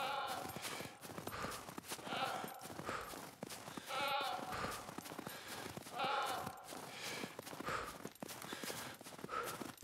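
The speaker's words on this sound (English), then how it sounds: "I've got a goat here, one of my favorites." A goat bleats in the video game SCUM, set in a snowy landscape, with repeated tonal calls over steady footsteps crunching through snow and ongoing ambient noise.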